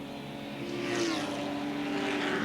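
A Porsche 911 race car accelerates along the long straightaway at a closed-circuit track in Montreal, a sustained engine drone rising in pitch and loudness as it draws nearer.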